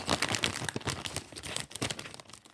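Thin plastic bag crinkling as a Lego Disney minifigure is unpacked, a dense run of close, loud rustles and crackles that rise and fall in irregular bursts, with no talking.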